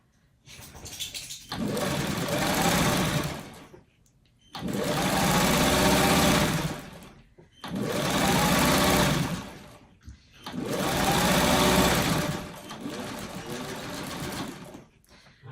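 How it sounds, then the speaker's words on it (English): Sewing machine stitching a narrow strip onto the side of a freeform quilt block, running in four long, loud bursts of steady motor whir separated by short pauses. "Let's take this and sew this to the side."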